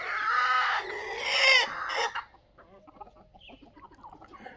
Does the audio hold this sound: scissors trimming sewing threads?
no